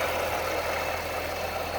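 The 6.2-liter supercharged V8 of a 2018 Corvette Z06 convertible idles with a steady low rumble and an even, constant drone close by.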